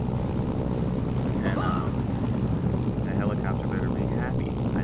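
A helicopter in the video game Mercenaries, a steady rotor drone that fills the whole clip at an even loudness, with faint game sounds flickering on top.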